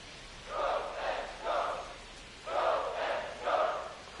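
Ambient crowd at a Seattle ballpark in MLB The Show 25, a steady murmur swelling in several rolling surges and cheers, moderately loud with no talk over it.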